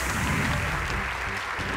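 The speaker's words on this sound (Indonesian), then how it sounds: "Tepuk tangan lebih meriah lagi dong untuk Al Malik" Steady, dense applause from a live television audience for a competing group on an Indonesian Quran-memorization game show, filling the whole moment without talk.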